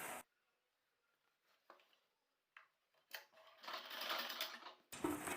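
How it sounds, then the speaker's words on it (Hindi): A sewing machine stitches the hem of a flared pajama, starting after a short burst, with scattered light handling noises, then a sustained close whirring run near the end, briefly pausing before resuming. "अब इसमें सिलाई लगाते हैं"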